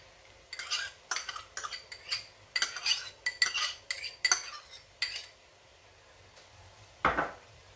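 Spoon scrapes and clinks against a pot as colored sweet rice is tipped in and stirred, a run of quick uneven metallic strokes followed by a pause and one final scrape.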